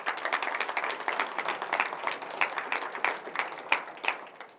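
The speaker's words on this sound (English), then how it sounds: "First of all, we should clap for these people." An audience at a finance seminar breaks into scattered, moderately quiet clapping for students who pay their own fees, a loose irregular patter of hand claps with uneven peaks throughout.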